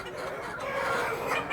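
Chickens cluck softly and continuously in a backyard flock, a faint, busy mix of overlapping fowl calls with no voices.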